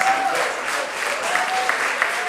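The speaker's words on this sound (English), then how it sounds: "A round of applause, please." An audience at a film release event applauds, steady crowd clapping throughout at moderate distance, with a few louder claps near the end.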